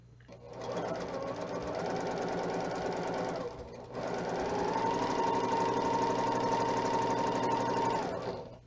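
A sewing machine stitching a quarter-inch seam on quilting fabric, running in two steady close-up bursts with a short pause between, an even mechanical whir and rapid needle clatter.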